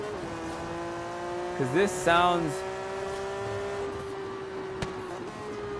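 A twin-turbo Jaguar XJ220 in Forza Horizon 3 holds a steady, droning, harmonic engine note throughout, with someone briefly speaking over it partway through.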